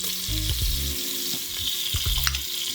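Broccoli sizzles steadily in melted butter inside an Instant Pot, a close, continuous frying hiss with stirring and scraping clatters mixed in.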